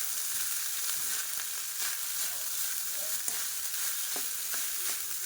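Cumin rice tossed in hot oil in a pan, a continuous bright sizzle broken by soft scraping stirs and scattered ticks as the grains turn over, close and steady with no speech.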